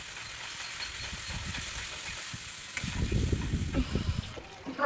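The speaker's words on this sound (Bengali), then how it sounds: "দেবো লঙ্কার গুঁড়ো, দেবো জিরে গুঁড়ো, দিয়ে ভালো করে একটু কষিয়ে নেব।" Chili and cumin powder sizzle in a pan during sautéing for a chicken dish, a steady hissing fry with soft stirring scrapes and bumps growing louder toward the end, with no talking.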